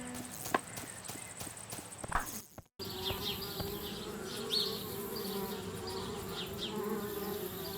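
Bees buzzing around a treehouse in the adventure game Anna's Quest, a dense continuous drone with individual insects swelling and fading close by after a brief clatter and pause.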